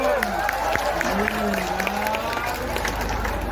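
A crowd claps and cheers steadily throughout at a Balinese drama gong performance in Nusa Penida, a dense wash of applause with voices calling out over it, fairly loud and continuous.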